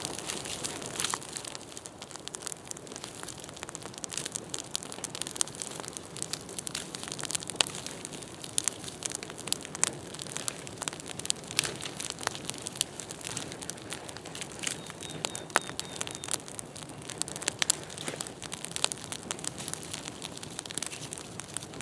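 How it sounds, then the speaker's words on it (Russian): Crackling campfire outdoors on a spring hiking trip, burning strongly with dense, steady pops and snaps spread evenly throughout, fairly close, with no voices. "костер пылает и горит."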